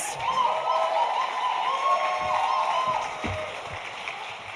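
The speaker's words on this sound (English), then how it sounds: "let's give our team a big round of applause" Crowd applause and cheering at an awards ceremony for The Crossing for Cystic Fibrosis, a steady wash of clapping and a few shouts that slowly fades, with a faint voice underneath.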